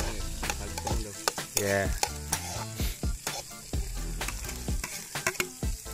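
Garlic sizzles and fries in a pan while a utensil stirs and scrapes through it in repeated clattering strokes, with a brief spoken word partway through.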